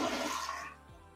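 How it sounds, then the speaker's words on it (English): A household toilet flushing with its handle held down to drain the tank, a loud rushing, gurgling flush that fades after about half a second into a quieter trickle, heard alone at close range. "you wanna hold this handle down and drain all the extra water out of your tank"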